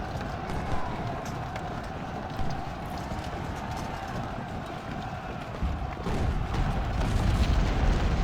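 Artillery fire in the Civil War strategy game Ultimate General: Civil War, with dull booms and a constant rumbling battle din, steady and moderately loud, and a voice talking over it.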